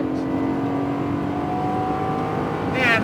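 A Lamborghini Gallardo LP560-4 engine holds a loud, steady full-throttle drone on a track straight, its pitch climbing gradually and a faint whoosh rising near the end.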